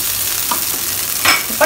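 Fish podimas sautéing in a pan with pepper powder, a steady sizzle broken by a few scraping stirs near the end, close and moderately loud with no talking.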